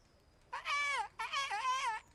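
In the Kingdom Come: Deliverance video game, a voice imitates birdsong with two warbling, whistled trill phrases, close and fairly loud over a quiet background.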